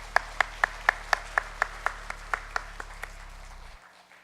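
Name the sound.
congregation applause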